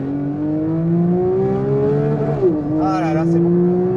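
Porsche 992 GT3 Touring flat-six revving out toward 9000 rpm on a test drive, a close, loud rising howl that climbs steadily, dips briefly at a gear change, then starts climbing again.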